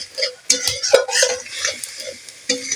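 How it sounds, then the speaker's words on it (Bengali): Garlic-onion paste with chilli and turmeric powder being stirred and fried in a pan: close spoon scrapes and clinks over a soft sizzle, in uneven strokes, with no talk. "এবার আমি লঙ্কা আর হলুদ গুঁড়োটা এই মশলাতে দিয়ে দিলাম মশলাটা খানিক্ষণ নেড়ে চেড়ে ভালো করে আমি ভেজে নেবো"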